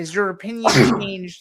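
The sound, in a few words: sneeze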